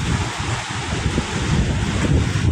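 Strong monsoon wind roars against the microphone over the steady wash of heavy surf on a white-sand beach in Masbate, a loud, continuous rumble without a break.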